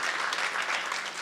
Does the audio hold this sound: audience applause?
yes